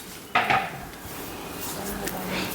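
Crushed cardamom is stirred in a curry pan for sweet corn curry, giving a sharp metallic scrape of a spoon against the pan, then a softer continued stirring rustle with faint clinks.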